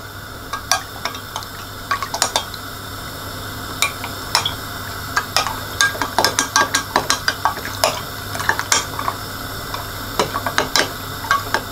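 A spoon stirs a tablespoon of flour into a mixture in a kitchen bowl, with irregular light clinks and scrapes that come faster and busier toward the end, over a low steady background hum.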